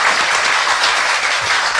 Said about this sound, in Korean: 다시 한번 박수를 줘야 된다고 생각합니다